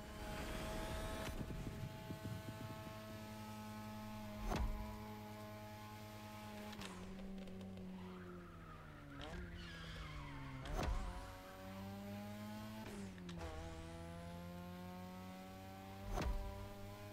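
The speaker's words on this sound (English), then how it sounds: "Tonight, your ride is a 3rd Gen 2002 Mazda RX-7. Lightweight, compact, a sick rotary engine" A 2002 third-generation Mazda RX-7 with a rotary engine drives in the racing game The Crew Motorfest, its high whining engine note climbing through revs with several sharp gear-shift drops, alone without talk.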